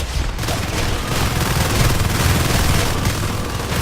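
Continuous dense gunfire in the Natural Selection 2 video game, a loud, unbroken rattle of shots that fills the whole stretch without any clear pause.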